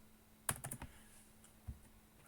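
A few quick keystrokes on a computer keyboard entering a save-and-quit command while editing a Linux GRUB configuration: a short cluster of crisp clicks, then one lone tap after a pause, quiet and close.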